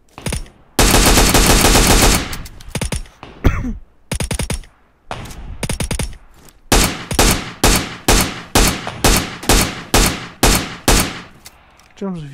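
Automatic gunfire in PUBG Mobile, fired unscoped: a long continuous burst, then a string of shorter bursts, then about a dozen evenly spaced single taps, loud and close.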